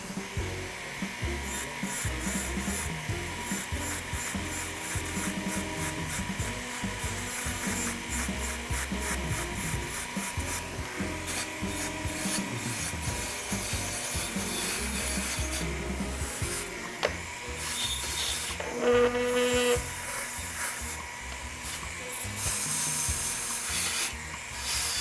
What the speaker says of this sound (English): For this, I'm going to be using a bristle disc. I really like this 3M bristle disc for cleanup.